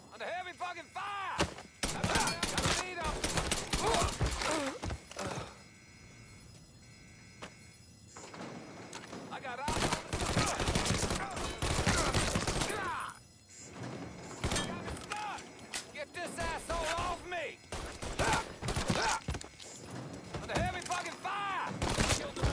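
Heavy gunfire erupts in the Mafia III video game, with loud bursts of shots and impacts coming in dense clusters, broken by brief lulls, mixed with shouting voices and game sounds.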